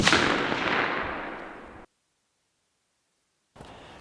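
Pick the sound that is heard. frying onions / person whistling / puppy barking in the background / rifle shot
rifle shot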